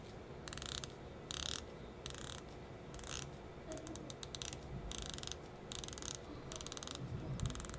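MMI Dumbo 500m diver watch prototype with a coin-edge bezel being turned, giving bursts of small, crisp ratchet clicks in quick runs with short pauses, fairly quiet and close, with no talking.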